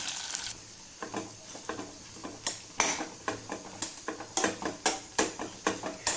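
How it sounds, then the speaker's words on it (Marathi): Soaked, pressure-cooked ground wheat fried in a pan for wheat kheer, with a rhythmic series of close scraping stirs and clinks over a gentle sizzle. "भिजवून जो कुकरला शिट्ट्या देऊन शिजवलेला गहू होता तो आपण त्यात टाकून छान फ्राय करणार आहोत"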